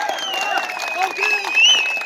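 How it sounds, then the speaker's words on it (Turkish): Crowd applause at a village wrestling festival in an open arena, a steady clatter of clapping under a man's loud, drawn-out announcing voice. "Alkış, alkış!"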